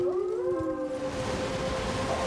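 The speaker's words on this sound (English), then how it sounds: "Well, I'm hearing wolves." Storm wolves in Elden Ring howl in long, steady, wavering tones over a low rumble of game ambience, sustained and moderately faint.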